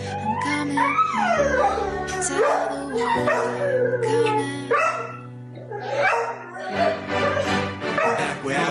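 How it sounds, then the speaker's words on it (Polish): A dog whimpers, whines and howls in long rising cries at a police officer's homecoming from the Polish-Belarusian border, loud and close, mixed with the sounds of crying children and voices. "Pies nawet płacze."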